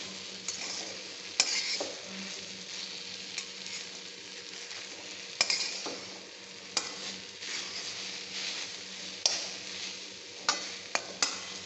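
Okra and flour stirred in a pan over a low gas flame, a soft steady sizzle with scraping strokes and occasional sharp clicks of a spoon against the pan, no voices.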